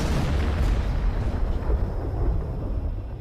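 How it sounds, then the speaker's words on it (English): Wartime cannon salvo fired in celebration of a victory, a loud rolling boom that fills the air and slowly decays, with no voices. "Stalin institutes a salvo of cannons to celebrate each victory."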